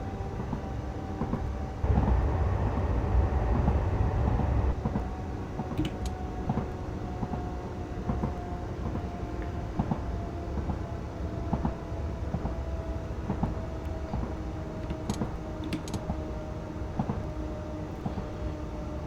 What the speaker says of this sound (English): Literally, we're traveling by train.